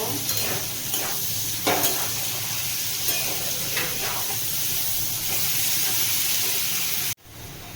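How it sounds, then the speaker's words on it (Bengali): Chopped onions fry with sugar and chili powder in a hot pan for a prawn and taro-stolon curry, giving a steady close sizzle with scraping stir strokes. A brief cut comes near the end. "চিনিটা দিয়ে ভালো করে ভেজে নেব"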